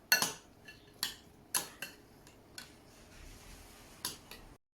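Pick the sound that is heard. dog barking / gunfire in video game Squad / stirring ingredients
stirring ingredients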